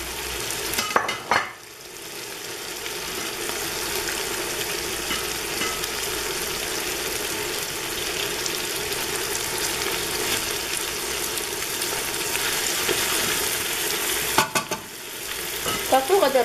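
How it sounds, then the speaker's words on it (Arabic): Chicken fries in a pan with onion, a steady close sizzle and crackle running throughout, with a few brief bumps and scrapes of stirring near the start and end. "تقلات ليا الدجاج، راه تقلى"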